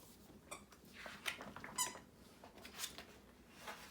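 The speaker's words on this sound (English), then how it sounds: "Don't mind Henry, he's playing with a toy in the background. If you hear some squeaking, that is why" A child's toy squeaks in the background of a quiet room, several short, faint, high-pitched squeaks spread unevenly across the moment with no talking.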